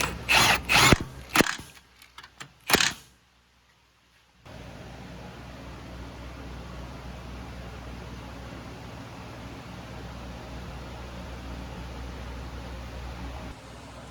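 Ratchet tightening a hub nut on a Polaris Ranger 1000 utility vehicle, several quick loud ratcheting bursts close by, followed by a pause and then a steady background hiss.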